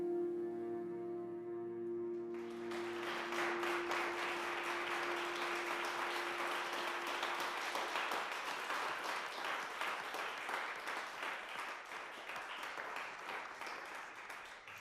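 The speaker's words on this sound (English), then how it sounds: "they're clapping for a remarkable young woman" An audience at a Security Council meeting breaks into sustained applause after a brief tonal hum, the many hands clapping steadily and fairly evenly for over ten seconds in a large room.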